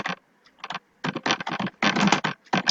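Close bursts of rapid clicking from typing on a computer keyboard, in short uneven runs with brief pauses between them.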